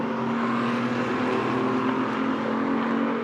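Race cars at Silverstone in a Michelin Le Mans Cup race roar past in a steady, loud engine drone with a sustained whine, heard alone without talk.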